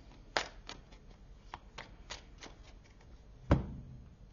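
Oracle cards are shuffled and drawn by hand, producing a sparse series of soft flicks and taps near the microphone, with one sharper slap toward the end and no speech.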